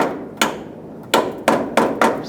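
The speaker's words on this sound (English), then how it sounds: "You might need a little hammer just to give the panel give the push pin a tap." A small hammer taps a plastic push pin into the valance panel of a 2011-2018 Ram 1500, four sharp close knocks at an uneven pace with no voices.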